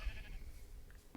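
A sheep bleats faintly at a distance, one short wavering call near the start followed by a quieter second one, with low rumbling background noise.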